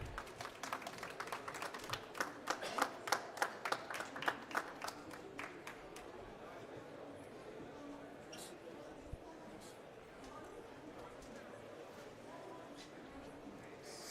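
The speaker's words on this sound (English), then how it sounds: "A round of applause for them, please." Audience applause at a panel discussion, quiet and somewhat distant, with clear individual claps for the first few seconds that thin out into a faint murmuring room.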